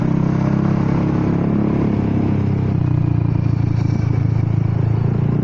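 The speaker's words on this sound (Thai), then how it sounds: "ถ้าแบบกอคันเร่งเบาๆนะมันจะปุ๊กปักปุ๊กปักปุ๊กปักปุ๊กปัก" A Honda Forza 300 scooter with a broken exhaust runs steadily at close range, a continuous rough engine drone with faint irregular popping texture, heard alone without talk.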